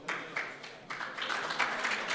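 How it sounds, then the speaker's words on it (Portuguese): Audience applause for a mayor called up on stage at an urban-planning conference session, a steady patter of clapping with small swells, moderately distant and without talk over it. "Palmas."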